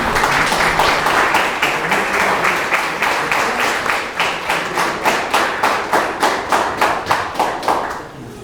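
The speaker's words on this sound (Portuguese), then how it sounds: "Vamos recebê-los com uma salva de palmas para Jesus." A church congregation applauds a couple during a wedding-ring blessing. Scattered clapping quickly settles into loud, steady rhythmic clapping in unison, with sharp evenly spaced beats that fade slightly toward the end.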